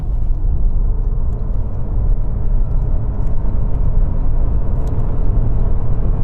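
Interior drone of an improved Toyota Yaris Cross compact SUV in normal mode, accelerating from about 40 mph toward motorway speed, with steady loud road rumble and engine hum that builds only gradually.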